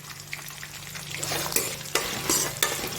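Potato stir-fried in a pan for sabudana khichdi, a close sizzle broken by several sharp spoon scrapes and stirring strokes that grow louder toward the end, no talking.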